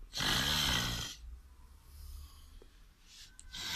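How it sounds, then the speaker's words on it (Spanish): A man snores once, loud and close, in a long rasping breath, followed by quiet breathing noises and a faint scratching sound. "Estuve filmando a mi marido cada vez que roncaba por 4 años, mezclándolo de una forma especial."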